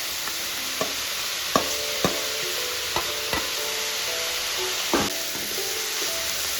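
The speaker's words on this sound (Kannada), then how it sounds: "ನಾವು ಇದಕ್ಕೆ ಈಗ ಹುರ್ಕೊಂಡಿರೋಂಥ ಬೆಂಡೆಕಾಯಿ ಹಾಕ್ಕೊಳ್ಳೋಣ." Fried okra is stirred in a pan for a dry curry, giving a soft sizzle under repeated sharp scrapes and knocks of a spoon against the pan.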